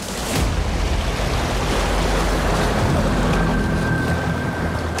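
Strong waves roll in off the Jeju coast near a fishing spot by a haenyeo diving village, a loud, continuous wash of surf and wind noise with no voices.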